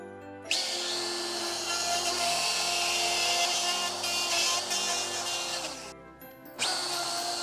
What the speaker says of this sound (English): I'm using a handheld router and a templating bit to remove the inside material.